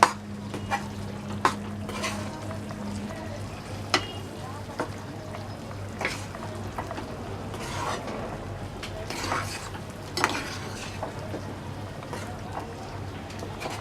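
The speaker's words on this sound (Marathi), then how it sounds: "त्याच्यात घालून आधी मिक्स करून घेऊया" Ground masala is stirred into chicken in a pan, with a spoon clinking and scraping against the metal in irregular knocks over a low sizzle, close by, and a voice faintly talking now and then.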